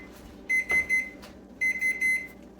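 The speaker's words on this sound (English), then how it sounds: "Turn that timer off." A kitchen timer alarm rings while cookies are being made, two loud bursts of three rapid shrill beeps each, separated by a short pause.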